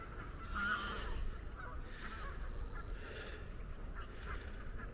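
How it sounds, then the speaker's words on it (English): Brown geese at a boating lake honk in a steady, moderately distant chorus of overlapping calls, quieter than a close flock, with a few louder honks standing out near the start. "I don't know what these brown geese are."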